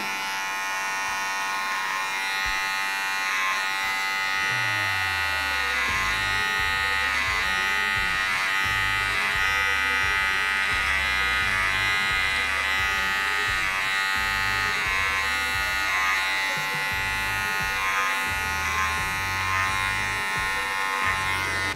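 An electric hair clipper buzzes continuously and closely against dry hair while cutting a razor part. Its steady whine shifts in pitch as the blades touch the hair and pull away, with no talk.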